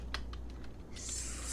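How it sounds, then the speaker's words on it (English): Quiet computer keyboard typing: a few soft, close clicks of keys followed by a brief brighter hiss, all faint against low room noise. "I'm gonna type that out."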